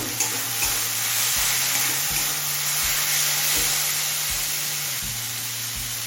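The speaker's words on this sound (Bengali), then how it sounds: "এবার টমেটো নরম হয়ে আসা পর্যন্ত আরও কিছুক্ষণ ভেজে নেব।" Tomatoes frying in a pan for chicken rajma, a loud continuous sizzle with regular stirring scrapes every second or so, close up and with no speech.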